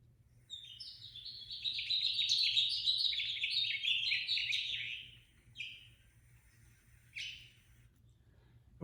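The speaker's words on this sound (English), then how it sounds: "This bird is the house finch." House finch singing, a long, bright warbling phrase of varied twittering notes, then a couple of short chirps after a pause, clear and fairly close over a low hum, no talking.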